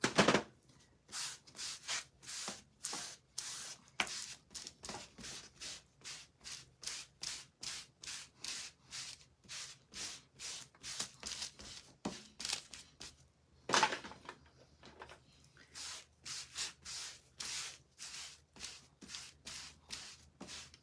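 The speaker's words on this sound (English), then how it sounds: "I'm just going to put a little wax on here before I do this so that my stencil does not stick to my board" Wax is rubbed onto a wooden board by hand in quick, rhythmic back-and-forth strokes, a close dry scraping swish repeated dozens of times with a brief pause partway through, and no talking.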